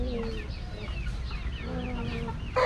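Free-range farm chickens of large, costly breeds cluck and call in repeated short bursts, a few birds close by over steady low outdoor rumble, with a brief louder squawk at the end.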